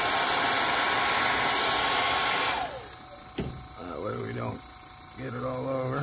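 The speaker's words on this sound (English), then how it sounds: "Go ahead and heat set our stencil." A heat gun blows a loud, steady whoosh while heat-setting an airbrush stencil on an MB S crank, then switches off partway through, leaving someone talking.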